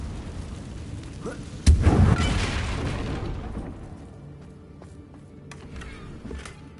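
The Confringo fire spell in the Hogwarts Legacy video game lands with one sudden booming blast, then a rumbling roar that fades over several seconds, trailed by faint crackling debris.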